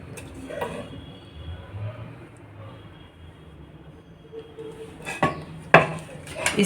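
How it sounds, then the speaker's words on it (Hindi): Cooked lasooni palak, a garlicky spinach dish, is scraped from a pan onto a plate, with soft scraping at first and then sharp metallic clinks and clatters of utensil against cookware near the end. "सब्जी को हम किसी प्लेट या भगोना या कटोरा किसी चीज़ में निकाल लेंगे।"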